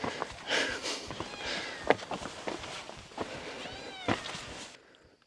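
A cat meows a few times in an outdoor setting in Jordan near Petra, the calls mid-loud amid footsteps and ambient noise, with a brief sniffing sound.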